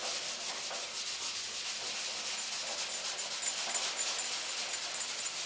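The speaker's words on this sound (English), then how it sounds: "Now we want to start sanding." Steady, close abrasive scraping as rusty metal is sanded by hand, a continuous hissing rub with even strokes and no pauses.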